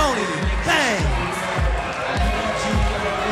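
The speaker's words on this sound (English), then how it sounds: "The crowd is loud." Loud crowd at a wrestling event cheering and shouting after a tag team championship match, with a steady roar and repeated thumping beats running under it throughout.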